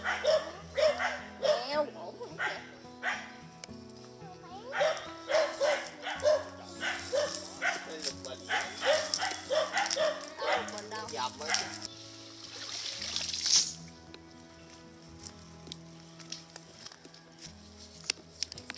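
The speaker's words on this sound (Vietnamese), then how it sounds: "Chó sủ quá thông cảm nha các bạn." A dog barks repeatedly in close, rapid bursts with yips and whimpers on a rural fishing outing, falling quiet toward the end while a person talks.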